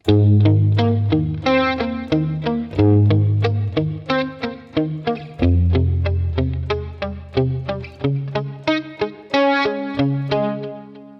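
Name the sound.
electric guitar outro riff of the song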